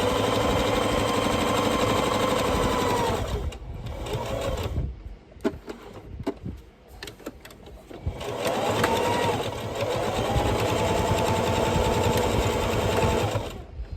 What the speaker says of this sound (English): I do give it an extra stitch again along the elastic, just to ensure that that elastic is in there